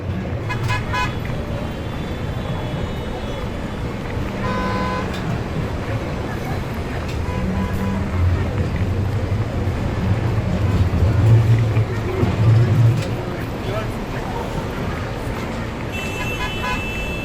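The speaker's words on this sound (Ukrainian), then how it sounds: "Це звуки міста." Busy city street ambience with steady traffic rumble, passing vehicles and a few horn toots, with some faint voices in the background.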